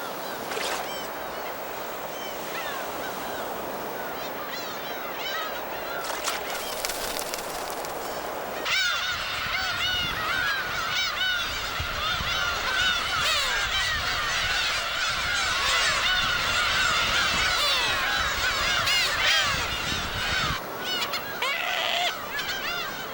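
Black-tailed gulls at Dokdo, a dense chorus of loud, overlapping honking and mewing calls from many birds, growing busier partway through with no talk.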